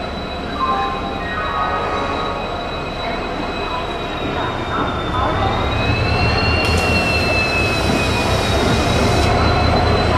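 The Tamralipta Express rolls into a station on the Howrah–Digha line with a loud continuous rumble of wagons and drawn-out high wheel squeals that rise and bend as the train slows, close by.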